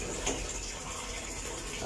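A sit-down toilet cistern refills after flushing, a steady close hiss of running water flowing into the tank without pause and with no talking.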